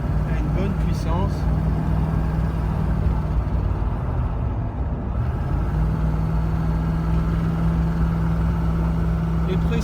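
Range Rover Classic with a 3.5 EFI V8 running steadily, a continuous low rumble that fills the whole stretch, with someone talking over the engine.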